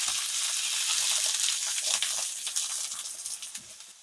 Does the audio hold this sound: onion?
yes